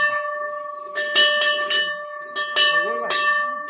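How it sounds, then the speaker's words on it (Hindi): Temple bell struck by hand at Nari Devi temple, several loud metallic rings with sustained ringing tones in a steady pattern, close by, with faint voices in the background. "बाबा घंटी तो बजाओ।"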